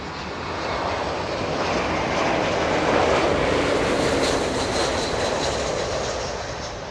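An Iberia-operated Level Airlines airliner, flight 2623 from Barcelona, arriving at LAX, its broad engine roar swelling toward the middle and easing off, loud and continuous with no talk.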